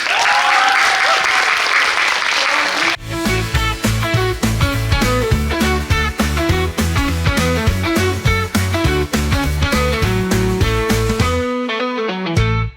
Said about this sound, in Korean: 우리 SJ CEF 모둠의 큰 박수 부탁드리겠습니다